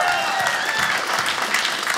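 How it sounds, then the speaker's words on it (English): Comedy club audience applauds steadily at close range, a dense continuous wash of clapping with some crowd noise under it. "Yeah, you can clap for that."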